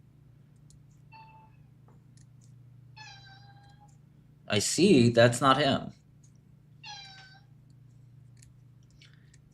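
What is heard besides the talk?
cat meowing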